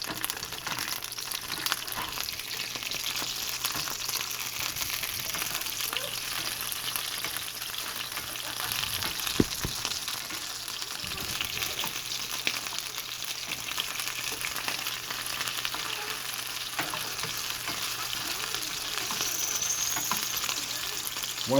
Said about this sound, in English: I hear my grease popping.